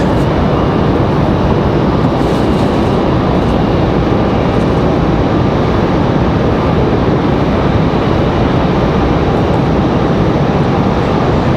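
Jet aircraft noise at Raleigh-Durham International Airport as a Delta plane arrives on final approach, a steady, loud broadband roar with deep low rumble holding throughout, no voices.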